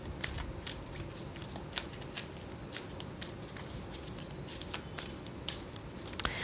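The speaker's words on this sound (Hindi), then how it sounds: "Let me get some oracle cards for you" Oracle cards handled and shuffled for a tarot reading, a quiet run of soft riffling flicks and taps repeating close by, with no talking.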